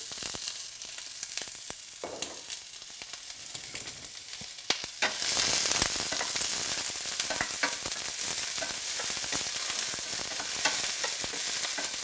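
Onion hits hot oil in a pan for a chicken chickpea curry, bursting into a loud, steady sizzle after a few seconds of quieter stirring, close and continuous with no talking.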